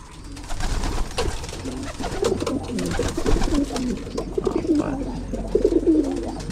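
Pigeons coo steadily in a breeding loft, several birds overlapping in low, rolling calls that continue throughout at close range.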